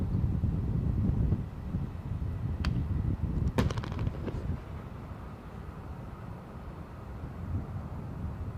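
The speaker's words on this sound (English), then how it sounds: "That must be the bird scarers." Bird scarers at Edinburgh airport go off in a few distant, sharp bangs with echoing tails, under steady wind rumble and outdoor noise.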